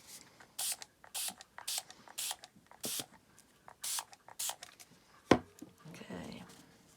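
Spray bottle misting onto a junk journal page in a series of short, sharp hissing bursts with brief pauses between them, close by, with a faint thump and rustle afterward.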